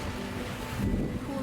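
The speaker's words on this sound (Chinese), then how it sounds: "还有这边的浪花" Waves wash steadily against the shore of Lake Ontario in Toronto, a broad continuous surf rush with wind buffeting the microphone, swelling slightly louder partway through.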